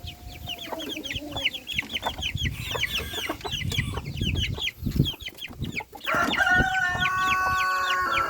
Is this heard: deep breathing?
no